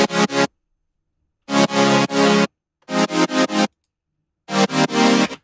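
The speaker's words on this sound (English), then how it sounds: "So you've already got the swelling effect going on from that long attack time." Future bass synth chord with a long attack that gives a swelling effect, played loud in four rhythmic bursts of short gated pulses separated by silence, with no voices.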